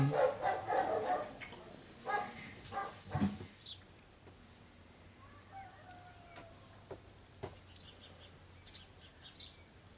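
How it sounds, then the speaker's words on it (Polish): A small dog yaps a few times in quick succession at moderate distance, then quieter ambient sounds with faint bird chirps follow. "Słodkie szczekanie."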